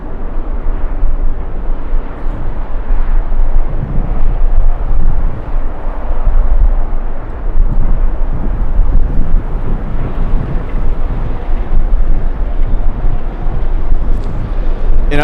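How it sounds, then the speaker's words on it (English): An American airliner arrives from Boston to land at LAX, its deep jet roar buried in heavy, gusty wind buffeting the microphone throughout. "Next arrival coming in is American 1243 flying in from Boston."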